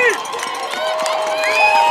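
A high school football game crowd roars and cheers at a distance, a steady mass of voices with whistles or tonal calls rising over it, continuous throughout.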